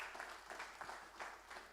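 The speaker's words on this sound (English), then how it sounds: "let's clap for the ECB" Faint, scattered applause from an audience at the launch of baseball franchises in Dubai and Abu Dhabi, a thin patter of claps with a few more distinct hand strikes.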